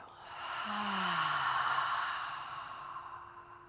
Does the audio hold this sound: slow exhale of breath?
yes